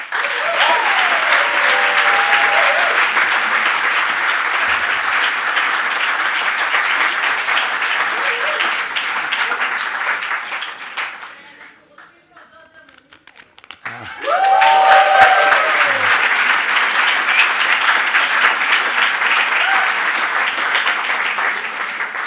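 An audience applauds after a student music academy performance, a dense sustained clapping that dies away, goes briefly quiet, then erupts again just as strongly, with a voice heard over it.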